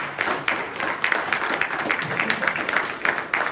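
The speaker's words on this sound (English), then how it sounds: "give me another round of applause just so I can know that y'all still here" An audience at a keynote talk gives a round of applause: a lively, continuous rattle of claps from a large room, with occasional louder hits, that holds steady for a few seconds.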